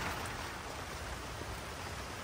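Rain falls steadily as a dense, even hiss of broadband noise. It is fairly close and continuous, with no voices over it.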